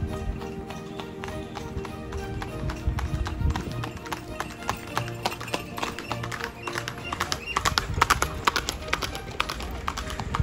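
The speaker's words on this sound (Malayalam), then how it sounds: "ഇതാ രണ്ട് കുതിര വണ്ടികൾ വരുന്നുണ്ട്" Two horse-drawn carts pass along a road near Kanthalloor, their hooves making steady, brisk clip-clops that grow louder as they approach, with people talking over them.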